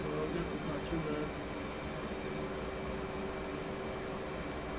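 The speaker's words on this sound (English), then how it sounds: "Oh shit, we're in burners." An F/A-18C jet in the DCS flight simulator roars steadily with its afterburners lit, a loud, continuous engine rumble with no break across the whole stretch.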